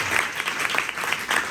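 Audience at a church New Year service clapping loudly in welcome, a dense steady round of applause filling the space with no speech over it.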